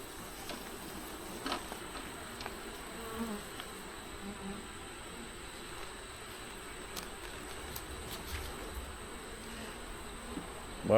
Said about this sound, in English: there is a ton of bees in here